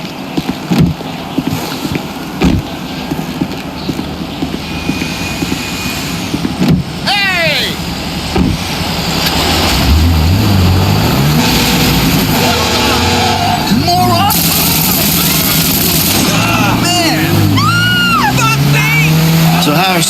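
A car drives through Los Santos in GTA 5, its engine growling and rising in pitch as it accelerates, with tyre noise and a loud, continuous road roar while characters talk over it.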